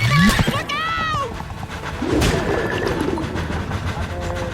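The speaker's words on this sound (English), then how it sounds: "train आ गई यार" A train rumbles past with a rhythmic clickety-clack in the SpongeBob SquarePants: The Cosmic Shake video game, steady and close, mixed with game sounds and a brief voice.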